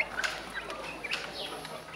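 Young roosters from a February hatch give short, scattered chirps and clucks, fairly close, with no voices over them.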